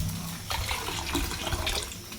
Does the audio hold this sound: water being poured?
yes